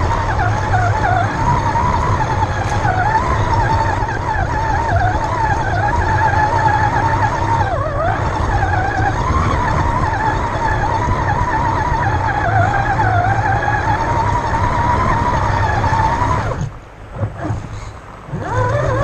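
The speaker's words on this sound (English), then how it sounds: "No traction from wet tires," A modified RedCat Everest RC car spins its wet tires on slick ground, a steady whining motor drone with wavering pitch that runs loud and constant before briefly dropping out near the end.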